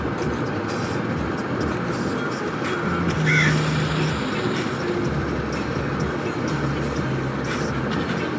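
Birds caw in the SurvivalCraft video game, sounding briefly over a steady, dense background of game sound and music, with no speech.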